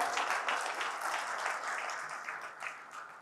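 An award ceremony audience applauds in a dense, sustained wash of many hands clapping, moderately distant and slowly tapering toward the end.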